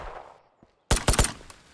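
A quick burst of three or four sharp gunshots cracks out close and loud in the VR shooter Ghosts of Tabor, following a near-silent pause, with a fainter shot trailing after.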